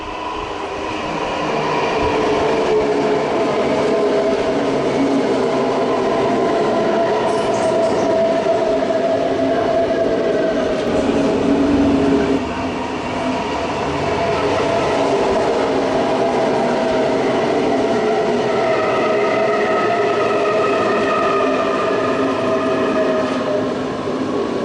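An S-Bahn train pulls away from the platform at a station, its steady rumbling motor whine rising and shifting in pitch as it departs, loud and continuous with no voices.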